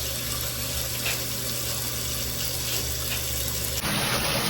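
Water is poured over a small idol to bathe it, a steady close gushing stream that shifts in tone near the end, with no voices.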